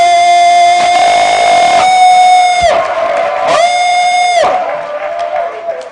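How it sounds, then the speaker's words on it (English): A crowd of party delegates at a political rally in Ghana's Ho West constituency roars and cheers, with loud, sustained blaring tones rising and breaking off in long blasts over the continuous clamour. "with a bigger round of applause, let us acknowledge the presence of elder chairman of Bobby"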